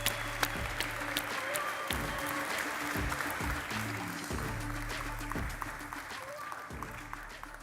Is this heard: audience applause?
yes